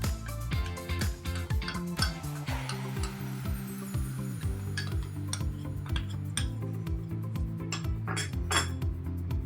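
A metal spoon stirs custard powder into milk in a steel pot, scraping and clinking against the sides in a quick, busy rhythm, close and fairly loud, with no talking.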